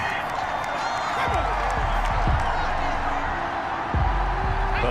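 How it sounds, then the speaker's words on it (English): Football stadium crowd roaring in a sustained, dense wash of voices as they react angrily to a penalty flag on third down, with scattered louder shouts and whistles rising out of the steady din. "Well, the crowd doesn't like that."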